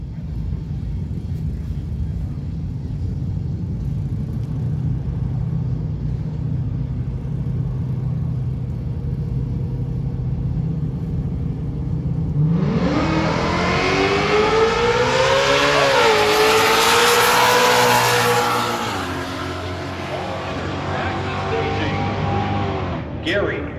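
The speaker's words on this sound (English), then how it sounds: "Gary Punsack out of Scottsdale, 2017 Mustang 5-liter." A 2017 Ford Mustang with a 5-liter engine launches at a drag race, its roar building from a steady crowd and engine rumble into a loud rising wail of acceleration, then cutting off abruptly.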